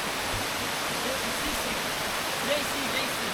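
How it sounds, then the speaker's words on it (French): A waterfall cascades on a long hiking trail in Charlevoix near a railway line, giving off a constant, dense rushing hiss at moderate loudness. A faint voice may be mixed in briefly. "On a fait plus que la moitié là, on a fait 14 km. Donc le chemin de fer est là. On va se poser au bord de la cascade, elle est quand même cool."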